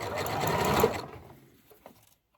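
A sewing machine runs a fast burst of stitching for about a second, then slows and stops, with a faint click or two afterwards as the fabric is held and pulled.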